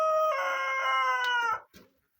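Chickens in a farmyard beside a whitewashed shed, with one long harmonic crowing-like call lasting over a second, close and fairly loud, followed by a brief cluck and silence.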